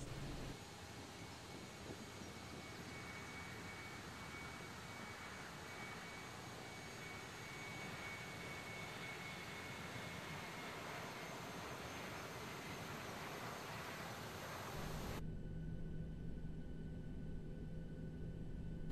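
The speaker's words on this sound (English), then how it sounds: "Taxiing to runway 24 left." Airliner jet engines idling and whining steadily as the aircraft taxis toward runway 24 left in a flight simulator, a continuous high-pitched hum and rumble that shifts abruptly to a quieter, duller tone near the end.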